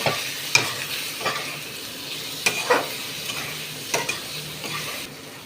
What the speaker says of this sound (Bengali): দিয়ে আমি আবার ওই মশলাটাকে খুব ভালো করে একটু ভেজে নেব।